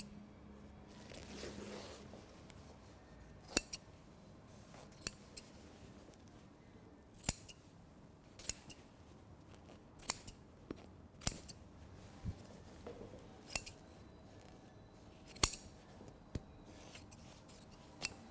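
Scissors snip repeatedly through the cloth of a luxury tailored suit, a series of sharp, close, quiet cuts spaced a second or two apart over a low background hush.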